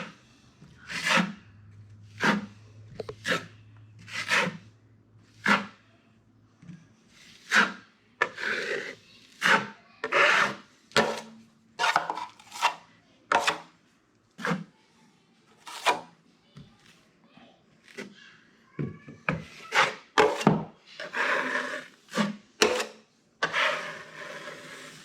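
A drywall knife smooths thick hot-mud paste over a patched hole in a wall, making repeated close scraping strokes in a steady back-and-forth rhythm with brief pauses between passes.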